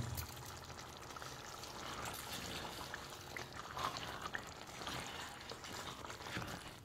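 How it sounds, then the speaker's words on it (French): Half a kilo of rice poured into a cooking pot for a Ghanaian rice-and-beans dish, a continuous rustling, grainy pour lasting several seconds at moderate level, with no talk. "Je viens maintenant rajouter mon riz à l'intérieur."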